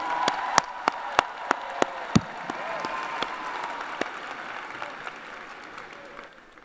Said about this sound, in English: let's get one more round of applause for the stars of our show today